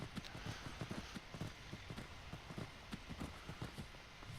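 Horse hooves clip-clop in Skyrim, a steady rhythmic patter of hoofbeats over a constant background wash, moderately loud with no voices.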